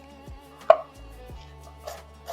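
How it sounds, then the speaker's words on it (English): Knife cutting mushrooms into quarters on a cutting board, a few soft, close chops and taps spaced irregularly in a quiet kitchen. "We'll quarter the mushrooms."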